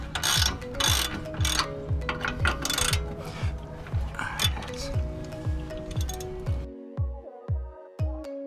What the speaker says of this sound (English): Just break them loose. And you can ratchet them out.